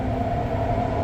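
An REM light rail train in service at night rumbles steadily from inside the car, a loud continuous low drone with a faint whine and no voices.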